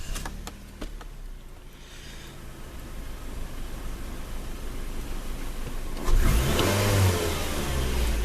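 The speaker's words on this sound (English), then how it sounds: "start the car." A car with an FNR5 automatic transmission and a hard-starting condition, engine running steadily up close before a sharp jump in level as it revs harder near the end, with no talking.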